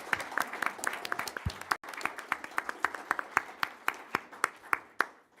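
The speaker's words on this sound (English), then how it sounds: "Please join me, if you would, in giving these guys another round of applause." Applause from an audience at a school governing board meeting, steady clapping that holds for several seconds, with a few louder individual claps standing out as it thins toward the end.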